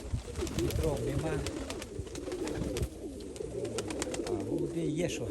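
Nikolaev pigeons coo in low, rolling phrases throughout, close and fairly steady, with hot still-air ambience and some background noise around them.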